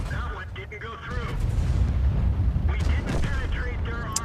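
Skoda T-25 medium tank firing its cannon in World of Tanks, with booming rumble and engine noise under a talking voice.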